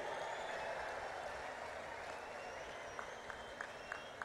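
Applause from a large crowd at a political rally welcoming India's prime minister, steady sustained clapping throughout with a few sharper claps standing out near the end, heard at a distance.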